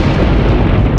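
A big explosion cracks the frozen surface of a lake as a story sound effect, a loud, dense, sustained booming rumble throughout.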